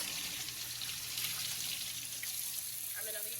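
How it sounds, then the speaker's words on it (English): A tap runs steadily during a surgical hand scrub rinse, a constant hiss of flowing water at moderate distance, with a faint clatter near the end. "I'm gonna leave the water on."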